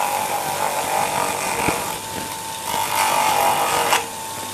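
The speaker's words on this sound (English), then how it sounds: "So we load the wheel up with the polishing compound," A polishing wheel spins in a shop while it is loaded with polishing compound for servicing scissors. A steady, fairly loud whirring hum carries a few brief scraping surges, with no voices.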